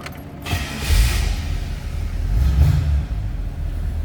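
A 1961 Chevrolet Corvette convertible engine starting: a grinding, creaky crank followed by a deep, steady rumble that swells and holds, heard up close with no talking.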